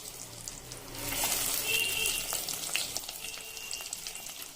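Halved boiled eggs sizzle as they go into hot oil for a spicy egg curry, a close, steady hiss that swells after the first second and holds, with faint clinks over it.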